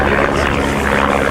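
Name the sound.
de Havilland Chipmunk aircraft engine at airshow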